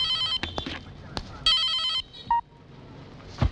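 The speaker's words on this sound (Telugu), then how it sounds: "ఫోన్." A telephone rings in short repeated electronic bursts indoors, with several clear rings separated by brief pauses and light background noise between them.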